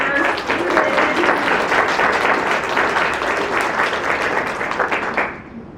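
Sustained applause from an audience at a disaster resilience conference session, dense steady clapping that fades out at the end, with a few cheers mixed in.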